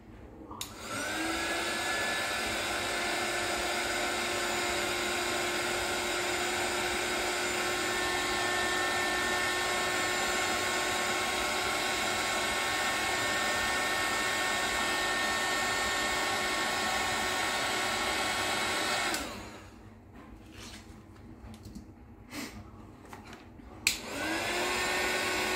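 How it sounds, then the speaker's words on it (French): A heat tool blows steadily and loudly for about nineteen seconds while drying embossing on a handmade greeting card, then cuts off, leaving quiet handling noises before it starts blowing again at the end. "je vais pouvoir souffler, sécher mon embossage"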